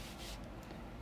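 Paper is burnished by hand while making a DIY album, a short, soft rubbing scrape close to the microphone, faint and alone.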